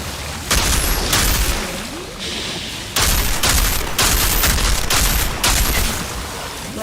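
Bursts of heavy automatic gunfire from the video game Outriders come in loud, close repeated volleys separated by brief quieter gaps.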